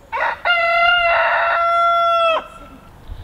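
A chicken gives a short call, then a rooster crows loudly and close in one long harmonic cock-a-doodle-doo, in an abandoned apple orchard.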